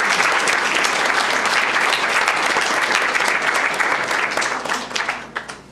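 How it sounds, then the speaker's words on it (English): Loud, dense applause from the audience at a school district board meeting, sustained evenly for several seconds before tapering off into a few last claps. "So a round of applause to them."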